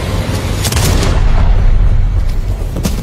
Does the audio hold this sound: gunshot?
yes